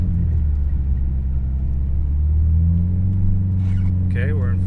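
A car with Yokohama all-terrain tires creeps slowly in first gear at about 3,000 RPM over snow packed on ice, making a steady, loud low engine drone. A voice starts talking near the end.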